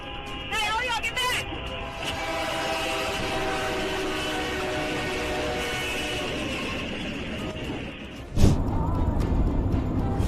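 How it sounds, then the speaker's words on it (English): A train strikes a stalled car on railroad tracks in Edmond, Oklahoma, with a sustained horn blast building over rumbling rail noise, then a sharp loud crash near the end followed by heavy clatter. "A stalled car on railroad tracks was hit by a train"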